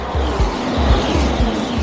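Race cars speed past at a Las Vegas race, giving a rapid series of short low whooshes in quick succession, with no voices.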